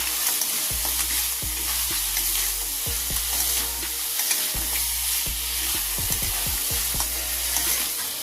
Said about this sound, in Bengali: যে কাঁকড়ার দাঁড়াটা হলুদ নুন মাখিয়ে রেখেছিলাম ওটা দিয়ে দিচ্ছি, দিয়ে আবারও ভালো করে কষে নেব।